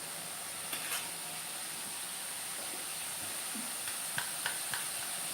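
Fenugreek and ponnaganti leafy greens fry in a pan with a steady, fairly quiet sizzle and hiss, broken by a few soft stirring scrapes and small pops.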